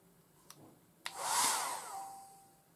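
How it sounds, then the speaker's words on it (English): A 1980s Black & Decker SW105 Stowaway 1000 travel hairdryer, 1000 watts, switches on after two clicks and whooshes with a loud airy roar that peaks and then slowly fades away close by. "It's one of the most powerful small hair dryers."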